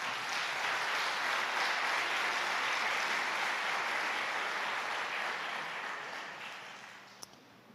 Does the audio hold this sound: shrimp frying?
no